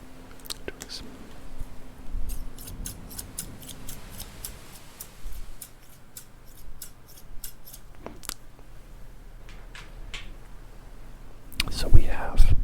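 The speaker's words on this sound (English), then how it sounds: "Doing some haircut scissors." Haircut scissors snip in a rapid series of crisp, close metallic clicks, with soft whispering in between and some brushing noise toward the end.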